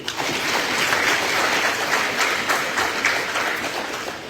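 An audience claps steadily at a Bihar education discussion event, a continuous, moderately loud wash of applause from many hands lasting several seconds, no talking over it.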